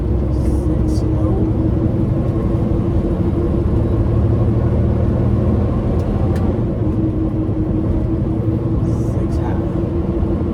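Steady low rumble of an 18-speed truck engine running while the driver shifts into sixth low gear, droning continuously from inside the cab with a voice speaking over it.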